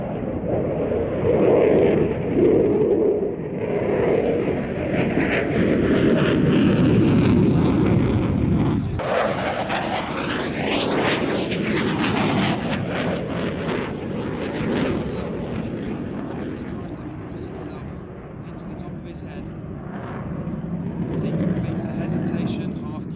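A Eurofighter jet performs knife-edge manoeuvring at an air display, a loud, roaring broadband rush that swells and shifts pitch as it passes, lasting about twenty seconds.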